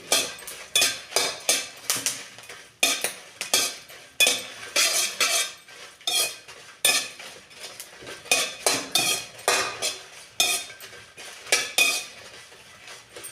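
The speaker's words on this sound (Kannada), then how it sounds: "1 ಸ್ಪೂನಷ್ಟು ಎಣ್ಣೆ ಹಾಕ್ಕೊಂಡು ಮೆಣಸಿನ್ಕಾಯಿನ ಅಷ್ಟು ಹುರ್ಕೊಂತೀನಿ ನೋಡಿರಿ" Chillies being roasted in a spoonful of oil in a pan, with loud, close metal scraping and clinking of a spoon stirring in a regular rhythm of repeated strokes and faint sizzle underneath, no voices.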